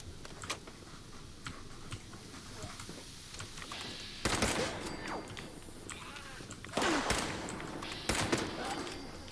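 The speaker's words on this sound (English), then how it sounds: "Probably shouldn't be shooting inside, like so near to a nuclear reactor" Gunfire indoors near a nuclear reactor in Fallout 76, sharp shots spaced apart over a faint ticking, low background, with louder bursts around four, seven and eight seconds.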